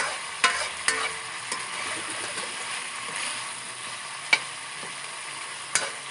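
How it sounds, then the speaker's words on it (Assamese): Village-style chicken gravy with black pepper sizzles in a pot while a spoon stirs it, with occasional sharp clinks of metal against the pot over a soft steady simmer. "এনেদৰে মাজে মাজে ঢাকনিখন দাঙি পেলাই লৰাই থাকিব।"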